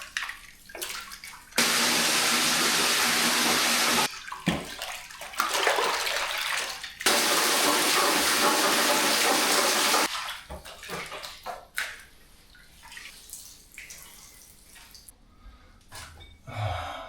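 Water, about 15 liters, gushes into a mixture for soaking a sheep hide, in two loud, steady pours separated by a pause, followed by quieter splashing and sloshing.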